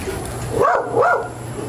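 A dog near a house gives two quick, sharp barks in succession, fairly close and clear against low background noise.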